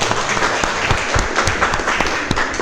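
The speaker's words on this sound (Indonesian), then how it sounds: "Tepuk tangan dulu." A classroom full of people applauds steadily, dense clapping holding at an even, lively level throughout.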